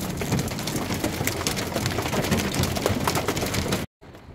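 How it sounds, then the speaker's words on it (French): Hail drums hard on the roof of a camper van during a violent storm, a dense, loud, continuous clatter of countless impacts that cuts off abruptly near the end, leaving quieter background. "Eh ouais, hein, c'est la grêle."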